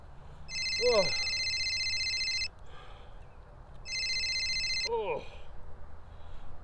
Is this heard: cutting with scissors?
no